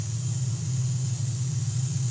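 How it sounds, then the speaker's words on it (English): Low, steady rumble of distant motor vehicles passing near a lake or stream, faint and continuous with no voices. "Okay, so if you hear motors going by and everything, I can't do anything about it. They're too far away."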